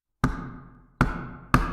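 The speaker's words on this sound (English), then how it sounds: "There was another knock." Three hard, resonant knocks on a door, close and loud, the first two spaced slowly apart and the third coming sooner, each ringing out briefly before the next.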